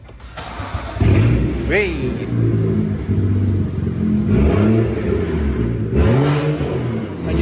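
A BMW 135i with the N55 engine fires up for the first time on a new downpipe, the engine catching and revving in several loud bursts over a steady rumbling idle, while people talk and shout nearby.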